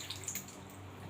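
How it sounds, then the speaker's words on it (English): Water from a tap trickles and drips as it fills a condom, a faint, brief wet splashing in a quiet room. "That's the condom being filled with water."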